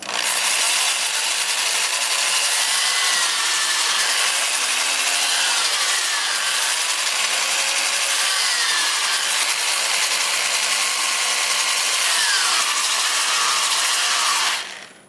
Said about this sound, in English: Alright, got the lathe going forward at about 350 RPM